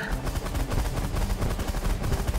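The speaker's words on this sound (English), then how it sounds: "I'm just trying to get out of the range of this gunfire before it kills me" Dense, continuous rattling gunfire fills a space battle in the strategy game The Last Federation, a loud unbroken barrage of rapid shots with no talk over it.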